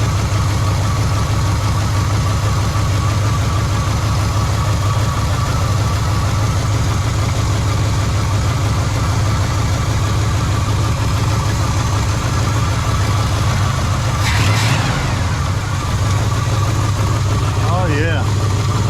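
A car engine fitted with a rebuilt Quadrajet carburetor runs at a steady idle, loud and close, with a low, even rumble throughout.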